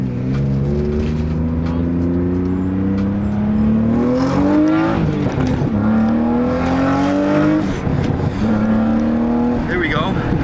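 A BMW E36 with a loud aftermarket exhaust revs and pulls hard, the engine note climbing through several gears with brief dips at each shift, close and loud; voices talk over it.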